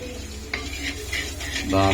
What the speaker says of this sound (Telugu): అది కారం అండ్ పసుపు. తిప్పుకుంటాం.